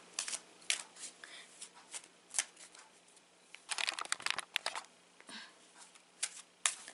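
Favole tarot cards are shuffled by hand in short, crisp bursts of riffling and sliding, close up with brief pauses between.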